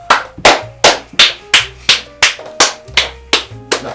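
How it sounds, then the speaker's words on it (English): Loud, distorted hand claps from one or two people, about eleven sharp separate claps in a steady rhythm, close up and overloading the audio feed, with no talk. "The audio feed did not like the clapping."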